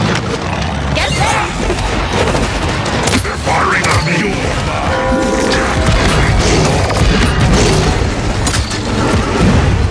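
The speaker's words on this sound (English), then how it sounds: "They're firing on me!" Gunfire and explosions from the Paladins video game build into a dense, continuous barrage of shots, booms and mechanical clatter, loud throughout with game voices mixed in.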